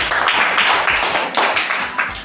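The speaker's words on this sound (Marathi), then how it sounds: "सगळेजण टाळ्या वाजा" A group of students claps together in a classroom during a matchstick puzzle lesson, a dense, steady patter of many hands close by, with no talking over it.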